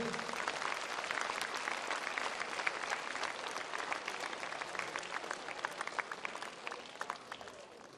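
A crowd at a Union Minister's one-day state visit bursts into sustained applause, dense and continuous, fairly distant and tapering slightly toward the end.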